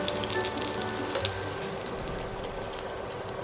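Vietnamese fish cakes (chả cá thác lát) fry in a pan with a loud, continuous close sizzle and crackle that holds steady throughout.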